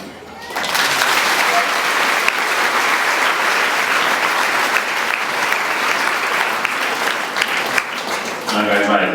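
A congregation applauds steadily at a closing Mass during a canonical visit in Bubanza, the dense clapping sustained and loud for about nine seconds before easing briefly near the end.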